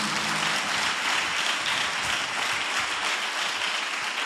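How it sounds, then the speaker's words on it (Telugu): A Telugu Sunday worship congregation claps hands together in steady, dense applause, a continuous wash of many hands filling the church hall without pause. "చప్పట్లు కొట్టండి గట్టిగా."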